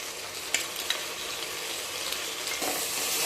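Potatoes and carrots frying with ginger garlic paste in a pan, a steady close sizzle with a few light scraping stirs, no talk.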